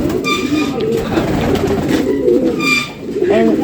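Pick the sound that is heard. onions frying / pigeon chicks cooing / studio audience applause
pigeon chicks cooing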